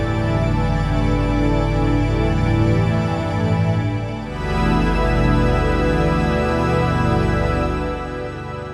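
Waldorf Iridium synthesizer playing a dense imported patch built with kernels mode, a thick sustained chord with a shimmering, pulsing texture that dips briefly midway and then swells again, played alone.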